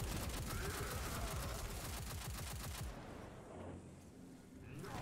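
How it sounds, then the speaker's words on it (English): Rapid automatic gunfire from Destiny 2 rattles loudly for about three seconds in a dense, steady burst, then drops away to quieter game ambience before rising again near the end. "I was shooting at air there"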